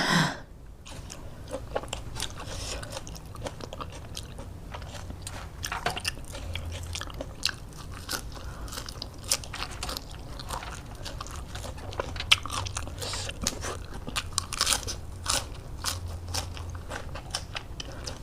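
Someone eats a spicy fresh-shrimp papaya salad dressed with fermented fish sauce, served with rice noodles and fresh vegetables, making close, steady crunchy bites and chewing with crisp crackles throughout, and no talking.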